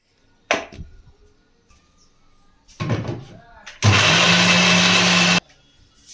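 A grinder blitzes soaked cashews into a fine paste for kaju katli, a loud steady whir lasting under two seconds after some brief clatter and handling noise.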